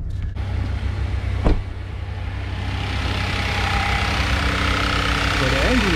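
A Kia Sorento engine with a faulty fuel pump idles steadily up close, a low continuous rumble with a brief click near the start.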